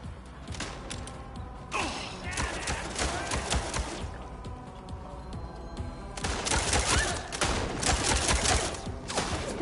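Gunfire rattles through a Mindseye firefight in dense, repeated bursts and sharp single shots, loud and close, with the heaviest volleys near the end.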